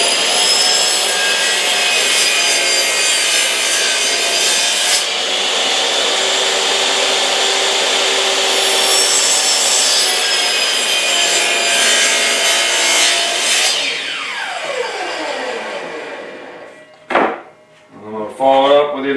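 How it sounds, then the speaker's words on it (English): A miter saw cuts through wood boards for a faux pallet wall, a loud continuous whining bite that runs for several seconds before the motor winds down and the blade spins to a stop, followed by a few handling clunks. "I can cut a lot straighter, faster with the miter saw"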